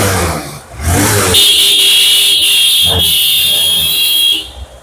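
A Hero Ignitor 125cc motorcycle in super condition starting up and idling, loud and close, with a steady engine drone carrying a high whining tone before it cuts off near the end.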